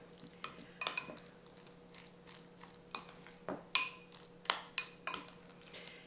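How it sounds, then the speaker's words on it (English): A spoon scrapes and clinks against a bowl while leftovers are mixed with plant-based cheese sauce, in a series of sharp, irregular knocks and scrapes with quiet pauses between them. "I'm just gonna add a little bit of my plant-based cheese sauce. We're just gonna mix this all together."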